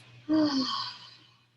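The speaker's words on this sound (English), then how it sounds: "Exhaling through your mouth, it might sound like this." A single loud, breathy exhale through the mouth during a seated breathing exercise, rising sharply then tapering off over about a second, close and alone.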